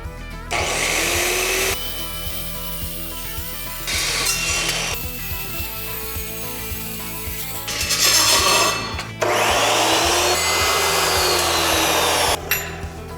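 A power tool slices strips off steel flat bar for welding gussets, its loud, harsh whine running in long bursts broken by short pauses and slight changes in pitch, close and with no speech.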